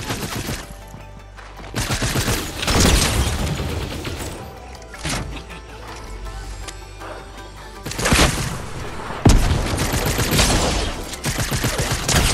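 Evochrome rifle firing in Fortnite, with dense bursts of rapid gunfire that swell and ease throughout, loud and close, and no talking.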